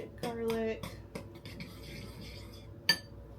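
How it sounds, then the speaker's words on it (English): Grated garlic being stirred into tomatoes, heard as a few close scrapes and clinks of a utensil against a dish, then softer rustling and one sharp clink near the end. "now with the tomatoes, we're going to stir in this grated garlic"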